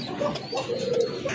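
Pigeons of local and foreign breeds at a farm coo softly nearby in a short, low, throaty burst, with no talking.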